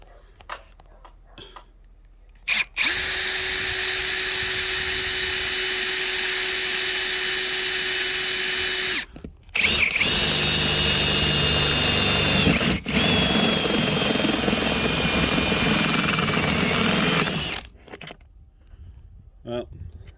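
A power drill boring a hole through the metal body of a Mitsubishi Rosa bus for a camera cable, a loud steady whine in two long runs with a brief pause, close up, then silence.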